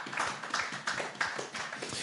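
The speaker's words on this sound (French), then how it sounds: "Lass uns den Herrn erst einen Applaus geben" Congregation clapping in praise during a bilingual German-French church sermon, a dense, steady patter of many hands at moderate distance with no talking.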